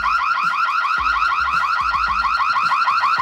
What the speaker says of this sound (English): if it detects a motion, it should automatically start recording as well as trigger an alarm